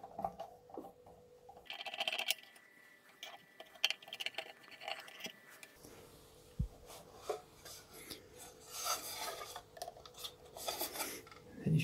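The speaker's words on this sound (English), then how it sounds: "if you have something like a knife that's quite thin and, well, not too sharp, you can lever out these plastic end covers" A thin knife prying the plastic end covers off a Xiaomi Router 3 Pro: quiet, close scraping, rubbing and small plastic clicks come in irregular bursts, with a few sharper snaps near the end.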